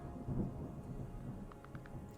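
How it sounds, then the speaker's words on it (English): Low, faint rumble of thunder with soft rain hiss in the video game Terra Nil, a few light ticks near the end. "Can hear the thunderstorm."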